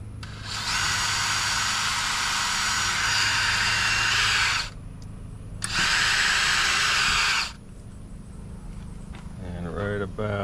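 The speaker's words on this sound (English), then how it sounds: "I'm going to pre-drill for them." A power drill pre-drills holes for eye screws on a garden gate in two long, steady whirring bursts with a short pause between, loud and close, followed by someone speaking.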